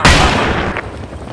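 Battlefield 2 combat: a loud burst of gunfire or a heavy boom opens the clip and then fades into a dense rumbling wash of battle noise. No voices are heard.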